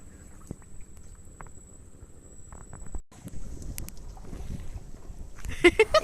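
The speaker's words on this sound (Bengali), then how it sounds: "সোনামা এখন নৌকায় উঠে চড়বে।" A boat out on a river, with wind buffeting the microphone, a thin steady whine, and scattered knocks and splashes growing busier toward the end.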